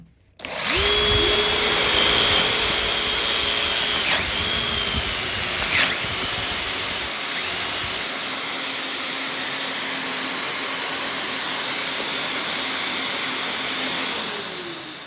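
A power tool runs alongside a RAB Dust Demon dust extractor, which switches on with it to a loud, steady whirring roar close by, the pitch dipping and rising a few times as the tool is worked.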